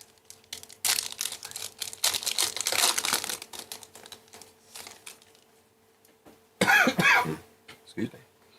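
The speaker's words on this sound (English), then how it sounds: "I can't wait for the cough to be over." A person coughing several times in short harsh bursts, close to the microphone, mixed with crinkling and rustling of packaging during a live card break.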